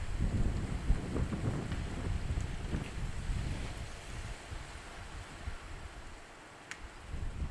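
Outdoor wind on a breezy day at an archery range, a constant low rushing and buffeting against the microphone that eases off slightly toward the end.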